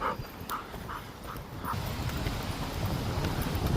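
Gusty wind roars steadily across the microphone with rustling leaves, a few brief rhythmic knocks early on, growing slightly louder toward the end.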